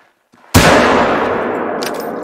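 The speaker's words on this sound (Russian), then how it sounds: "Ну что, карибу выстрел в сердце." In theHunter Call of the Wild, a hunting rifle is fired at a caribou, giving a single sudden, loud crack that rolls into a long, fading echo across open wilderness.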